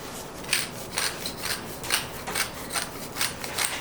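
Hands rubbing a dry spice rub into pastrami beef, a soft rhythmic rasping repeated about twice a second, close and steady, with no talking.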